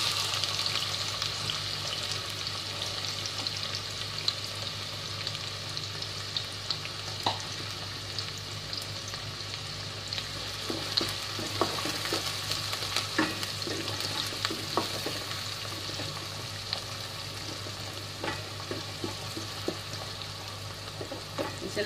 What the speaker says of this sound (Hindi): हमारा प्याज लाल हो रहा है